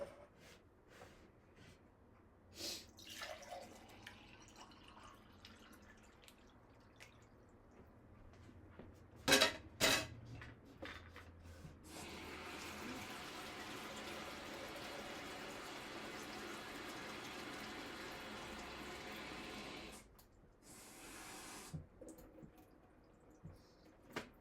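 A glass is filled with water: a few quiet knocks and clinks come first, then a steady pouring stream runs for several seconds before it stops and a brief final splash follows.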